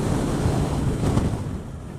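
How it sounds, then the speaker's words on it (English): Strong wind buffeting a microphone in an open field, a steady loud rumble of gusts throughout with no talk. "It's windy."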